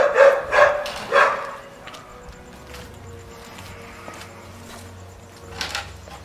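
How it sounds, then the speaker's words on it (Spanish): A small dog barks three times in quick succession close by, loud and sharp, followed by quieter household noises and faint movement. "mira el perro, mira"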